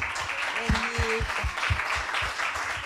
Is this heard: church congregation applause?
yes